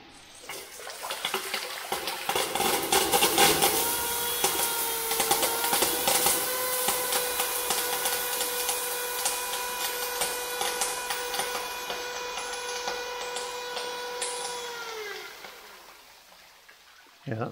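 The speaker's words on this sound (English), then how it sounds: "Just want to turn the valve on and check it all spins." A new micro-hydro Pelton turbine spinning up as its water valve is opened, a rushing, spluttering water noise with a steady whirring tone that swells, holds for several seconds, then winds down.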